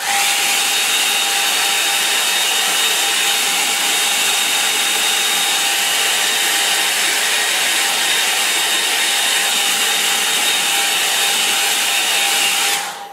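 A hair dryer blows steadily on a wet-in-wet watercolour painting of foreground rocks and trees, a loud continuous whir running unbroken for about thirteen seconds before cutting off at the end.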